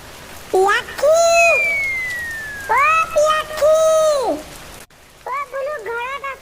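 Heavy rain hisses steadily in the background during a downpour in a flooded Assamese village, and voices talk over it throughout.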